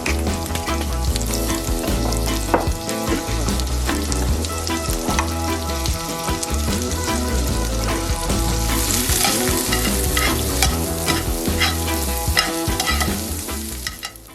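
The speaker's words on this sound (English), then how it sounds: "I'm just going to throw some green beans in my cast iron pan and saute those up for you." Green beans with minced garlic sizzle and fry in a cast iron pan, a loud steady crackle broken by the scrape and clatter of stirring, with no talking.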